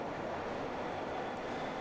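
Berlin U-Bahn train running through Nollendorfplatz station, a steady broadband rumble and rolling roar held at constant level for the whole stretch, fairly distant and quiet with no voices.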